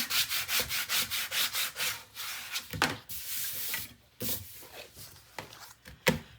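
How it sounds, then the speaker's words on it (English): Paper being burnished by hand onto a page of an 8 x 8 mini album: a close series of quick, rhythmic rubbing strokes, loud at first and then more scattered, with brief pauses and no talking. "I'm going to give it a nice little burnish here"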